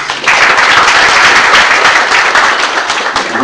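A full room of guests claps warmly and continuously at a book launch event as a vice minister is introduced, a loud unbroken wash of applause.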